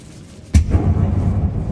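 Bombarda blasting spell cast in the video game Hogwarts Legacy: a single sudden, loud blast that rolls into a sustained low rumble of debris.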